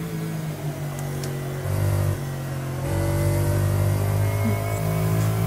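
A Lexus GT3 race car in a racing video game drones steadily, with its engine note stepping up twice as the throttle is stabbed, loud and close with no talk.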